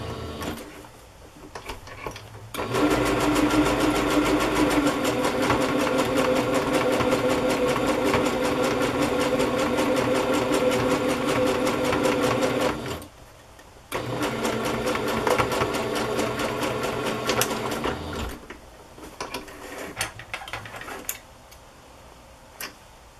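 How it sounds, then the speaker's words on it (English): A sewing machine runs steadily, stitching lace onto a fabric fairy journal pocket, its loud mechanical whir continuing for about ten seconds, stopping briefly, then resuming before winding down. "Sew it down in the center."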